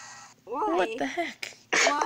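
A sneeze bursts out near the end, loud and abrupt after a stretch of a child's excited chatter, during a kids' evening gaming session.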